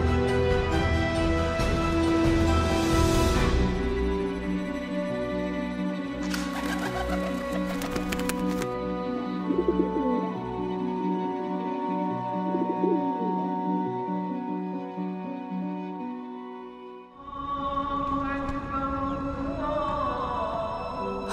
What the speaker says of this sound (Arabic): ببركه اطعام الحمام بحرم امام حسين وابن فضل العباس